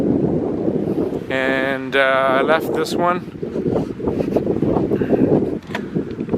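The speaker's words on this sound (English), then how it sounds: "I wish it wasn't windy" Gusty wind buffets the microphone with a steady low rumble while someone talks over it, with a brief higher whine partway through.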